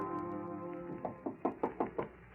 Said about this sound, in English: Her manager knocks at the door.